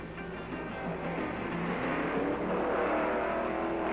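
A drag racing car from Ford's 1963–1964 racing program accelerates hard, its engine roar loud and sustained with rising tone throughout, no talking.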